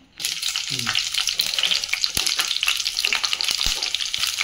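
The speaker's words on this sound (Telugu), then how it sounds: "పచ్చిమిర్చి కొంచెం పెద్దగా ఉన్నాయని అత్తమ్మ చుంచి వేస్తున్నా. మంచిగా ఫ్రై అవుతాయి" Large green chillies sizzling in hot oil in a pan, a dense, continuous crackle with a few sharp pops, heard close up and alone.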